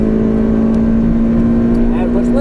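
A touring car engine revs out in fourth gear on the Knockhill circuit, a steady loud drone with a strong sustained tone throughout, heard from inside the car with a voice talking over it.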